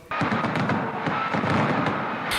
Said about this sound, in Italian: Sant'Agata si affaccia su Piazza Duomo, salutata da un tripudio di applausi e fuochi d'artificio